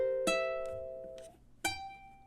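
Several fingerpicked ukulele notes ring out clearly and alone in measure 10 of a three-finger etude, with sustained tones and a fresh pluck near the end.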